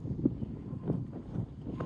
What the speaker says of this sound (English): Wind is doing crazy things today.